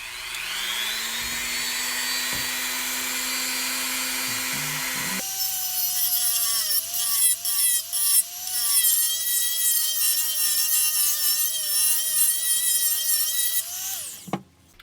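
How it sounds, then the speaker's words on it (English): Rotary tool grinding filler in the window openings of a USS Enterprise model kit: a high, steady motor whine that drops in pitch as the bit bites into the filler, with scratchy grinding, close and continuous until cutting off near the end. "The RPMs are higher, but once you start grinding, the resistance slows it down"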